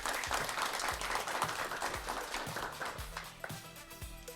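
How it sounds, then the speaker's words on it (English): Applause from a Quiz Bowl tournament audience, fairly faint and distant, steady clapping with a few louder thumps standing out, nobody talking over it. "Round of applause."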